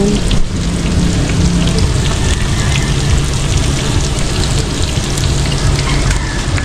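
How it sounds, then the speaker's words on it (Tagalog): Heavy rain pours down loudly, a dense continuous roar of drops hitting surfaces close by, with no talking. "kaya laging umuulan"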